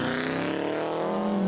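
A Subaru Impreza rally car on a tarmac stage in West Cork roars past close by, its engine note high and strained, then falling as it goes, with no voices.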